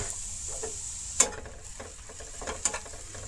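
Onions, garlic, turmeric and chili powder fry in a pan with a faint steady sizzle, punctuated by a couple of sharp utensil clinks and scraping stirs.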